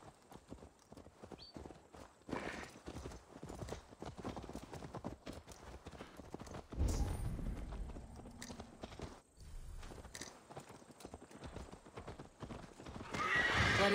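Horse hooves clip-clop steadily while a horse whinnies and snorts in Assassin's Creed Valhalla, the footfalls close and rhythmic with a louder stretch near the middle and end.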